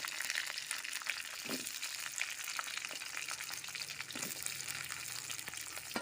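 Onions frying in hot oil with green chillies, curry leaves and mustard seeds for onion rice, a steady close sizzle and crackle with occasional soft stirring scrapes.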